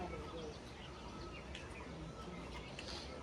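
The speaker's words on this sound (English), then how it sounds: "like the sounds of the birds" Birds chirp faintly in quiet natural surroundings near Rishikesh, scattered tweets and calls over a soft, steady outdoor hush, with people talking nearby.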